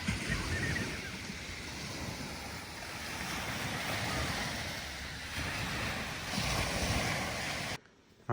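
Ocean waves and wind at Black Sand Beach in Santorini make a steady rushing surf with gusty wind buffeting the microphone, ending abruptly in near silence.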